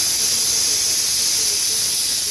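A pressure cooker whistles loudly while boiling dried peas for ghugni, a sustained high steam hiss close by with no voices.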